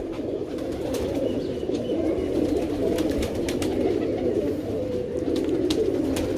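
Several healthy pigeons, grey and lakha types, coo continuously in soft low rolling calls close by, with light clicks and rustles mixed in and a faint patter of rain.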